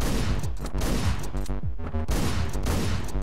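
Rapid gunfire in the top-down shooter Hotline Miami, dense bursts of loud, crackling shots packed close together with a brief lull midway, no talking.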